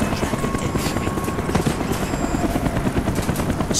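A helicopter in Call of Duty: Black Ops thrums loudly and steadily with rotor chop close overhead, filling the whole stretch with no voices over it.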